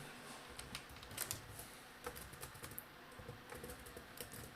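Quiet, irregular clicks of fingers typing code on a computer keyboard, soft keystrokes in short bursts with brief pauses, alone without talk.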